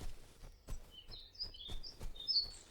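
Bird chirping in the video game Little Man Has a Day: a few faint, high tweets scattered over a quiet background, with soft low thumps beneath.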